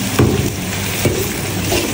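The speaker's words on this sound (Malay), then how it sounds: "Okey, kita goreng bawang ni." Steady sizzling of onions frying in hot oil, with a few soft scraping stirs, close and fairly loud, no talking.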